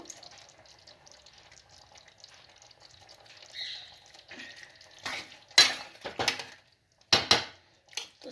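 Chicken curry stirred in a pan with a metal spoon, faint soft scraping at first, then sharp clanks and scrapes of utensil on pan in quick irregular bursts toward the end.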